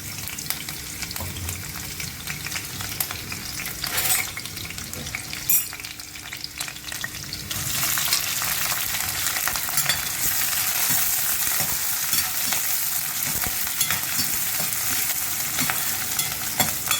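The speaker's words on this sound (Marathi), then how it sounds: "तेल तापले, आता त्यामध्ये मी लसूण, हिरवी मिरची," Garlic and green chillies frying in hot oil, a steady loud sizzle that swells partway through and keeps crackling with no talk over it.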